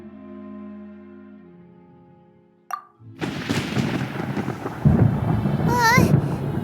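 Thunder in the video game Genshin Impact breaks in after a soft musical passage, a sharp crack followed by a sustained loud rumble of storm noise, with a wavering tonal effect layered on top.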